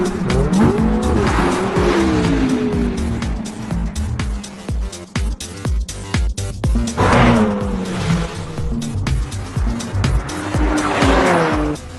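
Race cars overtaking one another, engines roaring loud and close with repeated tire squeals and skids as they pass, the noise surging and dipping between the bursts.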